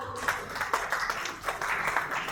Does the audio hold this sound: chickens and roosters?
no